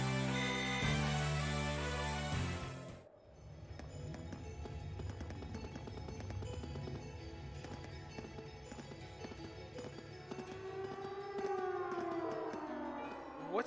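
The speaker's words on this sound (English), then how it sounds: "It sounds like a siren. It seems to be coming from the fort." A siren wails from a fort in a video game, rising and falling over busy game sounds such as hoofbeats, after an abrupt cut from music-like tones.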